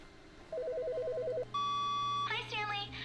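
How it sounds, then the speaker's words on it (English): A video game telephone in The Stanley Parable rings with a warbling electronic trill, then a steady beep tone follows, close and clear over a faint hum, with a voice starting to speak at the end. "Phone."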